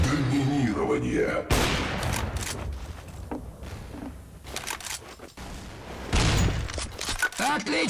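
Gunfire from the video game Counter-Strike: Source, with sharp, loud shots in quick bursts and booming impacts, broken by short gaps and interleaved with game voice callouts.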